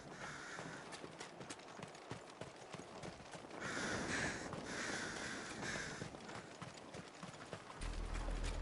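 Crows caw in the Final Fantasy 16 video game, a few harsh calls in short bursts over a busy game soundscape of hooves and ambient noise, fairly faint.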